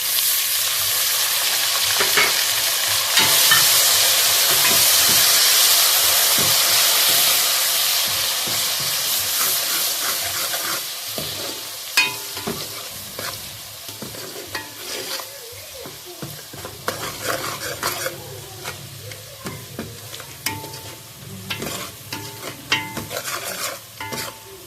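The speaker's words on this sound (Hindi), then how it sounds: "मिर्ची डालेंगे और फौरन जो है ना वो थोड़ा सा पानी डालेंगे ताकि अच्छे से भून जाए।" Green chillies sizzle loudly as they fry in a pan for chicken qurma, with a splash of water hissing at first, then fading into steadier sizzling broken by the scrape and clatter of stirring.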